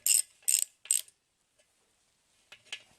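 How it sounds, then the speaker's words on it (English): Torque wrench ratcheting while tightening bolts on an engine during a teardown: three quick bursts of ratchet clicks close up, a pause, then two more softer bursts. "then I'll use a torque wrench"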